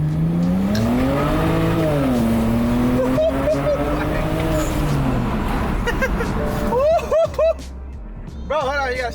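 A tuned BMW 335i pulls hard under acceleration, its engine note rising steadily and staying loud throughout. People talk and whoop excitedly over it, and a few sharp chirps appear near the end.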